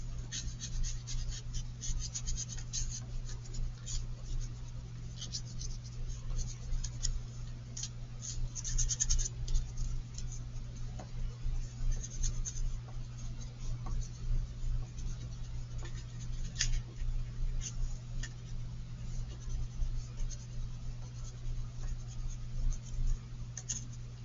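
Oil pastel scratching on paper, a soft continuous scraping with small irregular strokes, close and faint over a steady low hum.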